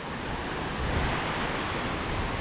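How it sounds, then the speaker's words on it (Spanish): Steady running water near the Panixersee (Pignia) reservoir in Switzerland, a continuous broadband rush with no talking and an even level throughout. "aquí el ruidito este del agua corriendo es súper relajante"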